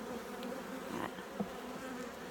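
Honeybees at an opened hive during a hive combine give off a continuous, faint, close buzzing hum with a few slightly louder individual passes.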